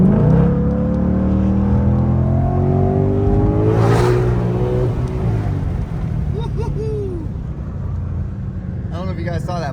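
A 2020 Ford Mustang Shelby GT500 Carbon Track Pack, a 700+ hp car, accelerating hard from inside the cabin. A loud engine roar climbs in pitch through the gears, with a brief voice near the end.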